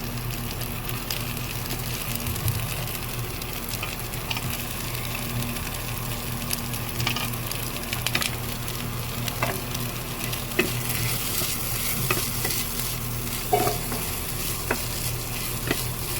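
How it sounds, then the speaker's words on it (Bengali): Carrots and capsicum being stir-fried in a pan for veg paneer cutlets, with a constant close sizzle and scattered light clicks and scrapes of a spatula, steady and unbroken throughout. "এই সবজিগুলো দেওয়ার পর আরও 2 মিনিট আমি ভালোভাবে নাড়িয়ে নেব।"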